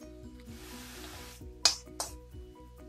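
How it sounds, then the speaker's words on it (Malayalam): Chopped onion and curry leaves frying in hot oil, a steady low sizzle with a couple of sharp clinks of a utensil against the pan near the end. "എന്നിട്ട് അതിലേക്ക് ഈ ചോപ്പ് ചെയ്ത ഉള്ളി വേപ്പിലയും കൂട്ടിയിട്ടിട്ട് ഒന്നും കൂടി ബ്രൗൺ ആയിട്ട് വരണം"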